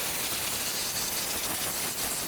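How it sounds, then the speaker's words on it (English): Compressed air blasts dirt out of the fuel pump access on a 2011–2014 Chrysler 200, a steady, close, loud hiss that lasts the whole moment without letting up. "I'm just gonna take some compressed air, just watch your eyes and blow it out"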